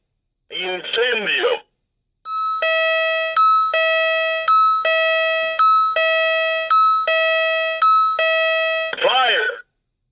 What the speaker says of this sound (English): It's kind of like a high-low bell or two-tone bell.